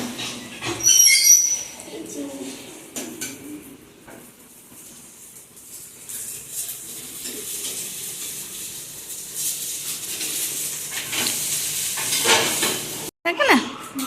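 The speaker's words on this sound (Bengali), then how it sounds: "হচ্ছে রান্না বান্না, সবে একটা হয়েছে, বাকিগুলো করে নিই" Food sizzling in a home kitchen pan while being stirred, a steady hiss with occasional scraping and clinks of utensils, close by, with brief speech in the background.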